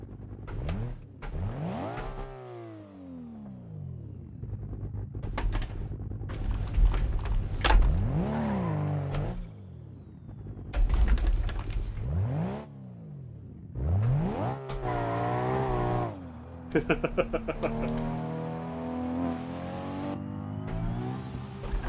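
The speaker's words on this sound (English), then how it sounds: "Give her a little rev, shall we? Throw some of that NOS." Car engine in BeamNG revving hard with a nitrous (NOS) boost, several sharp rising and falling rev sweeps with clattering bursts, loud and close, no talking.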